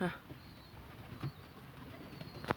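Birds gather near a backyard bath made from a construction tub filled with vinegar water, with faint, distant cooing and brief calls over quiet outdoor background; a few soft bursts stand out, including one near the end.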